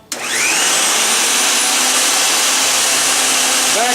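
A shop vacuum runs alongside a table saw during a woodworking cut, a loud steady whine starting abruptly near the beginning and holding constant throughout, with no speech.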